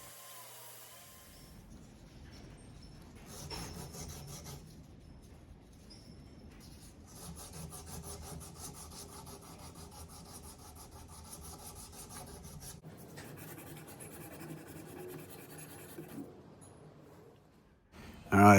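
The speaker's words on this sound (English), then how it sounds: "Here I'm just using a 36 grit belt to get the work done." A belt sander fitted with a coarse 36 grit belt grinding a knife handle, a steady raspy rubbing that runs on and off at moderate level with brief pauses between passes.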